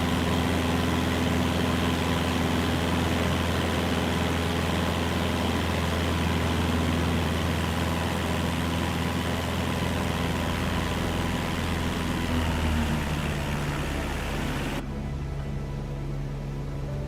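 Aircraft engine in Microsoft Flight Simulator 2024 hums steadily at reduced RPM after a power cut on the climb through 2,600 feet, a continuous droning tone that drops slightly near the end.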